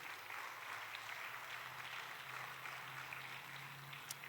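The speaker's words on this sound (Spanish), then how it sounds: "Denle el aplauso fuerte al Señor, hermano." Church congregation applauding, a faint, steady, rain-like patter of many hands clapping at a distance, continuous throughout.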